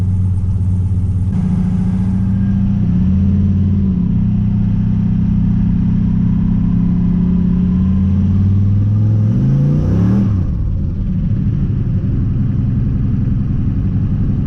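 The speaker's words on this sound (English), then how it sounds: "We just did a one-wheel peel!" A turbocharged LS-engined car holds a loud, sustained engine roar during a one-wheel peel, the pitch steady and then rising and falling sharply near the end, close and dominating throughout.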